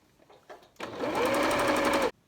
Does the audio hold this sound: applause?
no